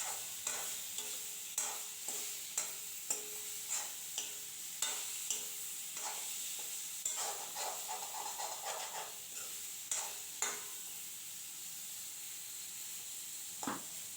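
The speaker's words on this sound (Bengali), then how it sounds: "আমটাকে হালকা ভাজা করে নেব।" Mango pieces fried lightly in a pan with salt and turmeric for chutney, a soft continuous sizzle with regular scraping stirs about every half second, quiet and close, with no talking.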